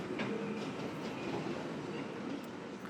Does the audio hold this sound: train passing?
yes